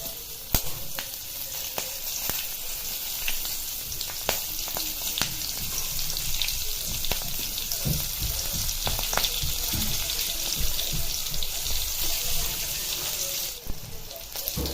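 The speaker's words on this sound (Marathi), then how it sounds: "लगेच तळायला घालायच्या गॅस बारीकच ठेवायचं आहे आणि मिरच्या त्या घालून घ्यायचं" Green chillies fry in hot oil on a low gas flame, giving a steady, close sizzle with bubbling and crackle throughout, plus occasional sharp clinks of stirring.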